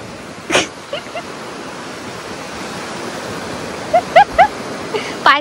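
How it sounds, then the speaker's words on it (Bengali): Sea surf at Mandarmani beach makes a steady, close rushing wash. A few brief, faint voices and short calls rise above the noise. "আবার একটা বড় ঢেউ আসছে।"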